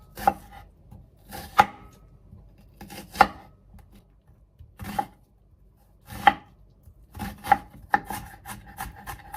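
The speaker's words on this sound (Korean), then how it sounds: "양파 반개를 잘게 다져주세요" A knife finely chops half an onion on a cutting board: roughly a dozen crisp, close, uneven strikes come in small bursts with short pauses between, and no talking.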